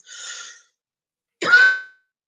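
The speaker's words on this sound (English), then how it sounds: "so maybe I can quit coughing" Two separate coughs, the first a breathy throat-clearing and the second a sharper, louder cough about a second later, close by with silence around them.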